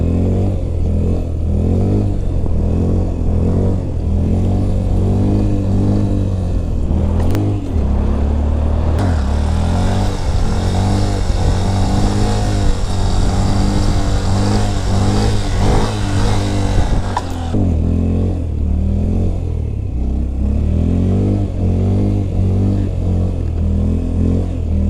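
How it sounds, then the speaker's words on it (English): A motorcycle engine holds a steady, loud drone during a wheelie, swelling and brightening in the middle section before settling back, with no voices over it. "that, my friend, is a wheelie"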